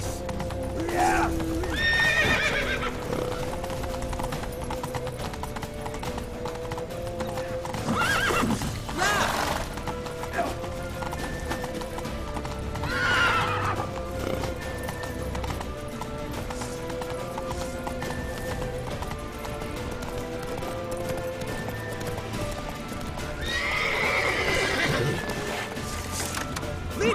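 Horses gallop with steady clip-clop hoofbeats and whinny several times in a Witcher 3 game chase, while excited voices shout over the action throughout.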